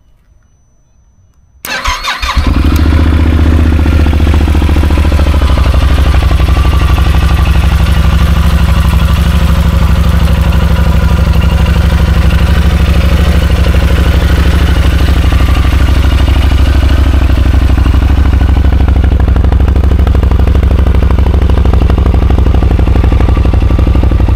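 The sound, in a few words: motorcycle exhaust pipe engine note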